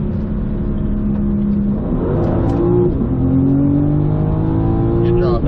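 BMW M4 GT4 race car on a track, a loud continuous engine drone with rising and shifting tones as it accelerates, an instructor talking over it.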